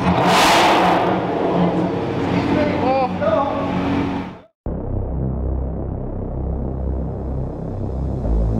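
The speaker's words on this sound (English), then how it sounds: "Listen to that V8, you guys." A Ford GT supercharged V8 engine revving, a loud, roaring rise and fall heard close under excited talk, followed by a steady low rumbling drone.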